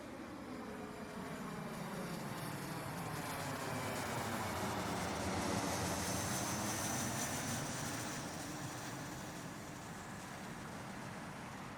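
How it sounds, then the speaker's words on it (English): An airplane passes by in a spatial recording, a broad steady roar that swells gradually toward the middle and then eases off, heard alone without voices. "Here's the same sound turned on its side, so now the plane will go from right to left in front of you."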